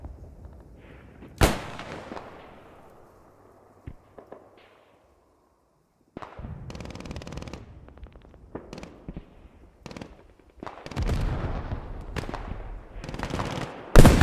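Machine gun fire rattles in Squad 44, a World War II shooter, in sharp loud bursts and scattered single reports, with quieter rumbling battle ambience and gaps of near silence between volleys.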